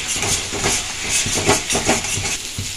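Ginger, tomato and spice masala frying in oil in a pan, a loud continuous sizzling hiss with irregular crackles and stirring clatters, heard close and without talk.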